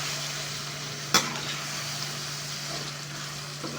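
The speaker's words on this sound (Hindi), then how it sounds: "छोले इसके अंदर डालें, चिकन और छोले की भुनाई कर रहे हैं।" Chicken and chickpeas frying in a pan while being stirred, a steady low sizzle with one sharp scrape or clatter early on, no voices.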